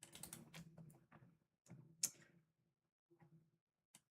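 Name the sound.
computer keyboard typing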